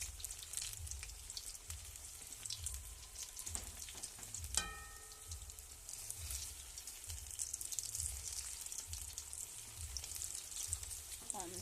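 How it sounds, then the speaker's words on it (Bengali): Food frying in a pan of oil gives a soft, continuous sizzle with a low rhythmic rumble underneath and a brief clatter midway, fairly quiet overall. "কিছু ভেজে নিচ্ছি।"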